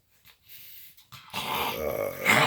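A small dog makes rough, hacking coughs and snorting noises up close, growing louder toward the end after a few quiet moments.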